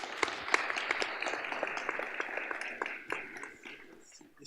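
An audience at a health conference applauds the participants, with scattered, fairly soft clapping that tapers off toward the end.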